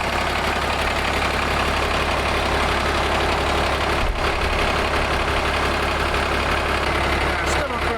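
A truck engine ticking over in low ratio, idling with a steady dense rumble and faint knocking throughout, loud and close, with occasional voices over it.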